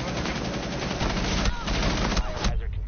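Rapid automatic gunfire in a video game rattles in dense, loud bursts that continue almost without a break, with a voice talking over the shooting.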